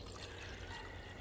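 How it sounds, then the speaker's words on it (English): Diluted fertilizer is poured into the top tier of a stacked planter, giving a quiet, continuous watery trickle and splash for about a second with no talking. "once you get your fertilizer diluted, then you just pour it in the top tier here."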